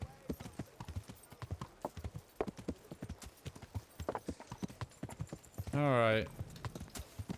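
Horse hooves clip-clop steadily in Kingdom Come: Deliverance, a quick rhythmic trot under a man's conversational speech, with a brief tonal whinny-like burst near the end.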